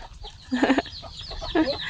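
A single farm chicken gives two short bursts of clucking close by, separated by a brief pause, with no voices.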